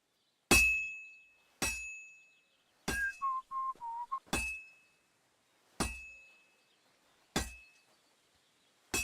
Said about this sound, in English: Now take the hammer and try hitting it a few times.